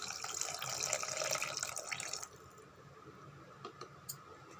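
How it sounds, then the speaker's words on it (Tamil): Tamarind water is poured into a cooking pan for a okra kara kuzhambu, a splashy liquid pour lasting about two seconds before dropping to a quiet simmer with a few faint drips and clicks. "இந்த டைமில் நம்ம புளி கரைசலை அப்படியே சேர்த்துருங்க."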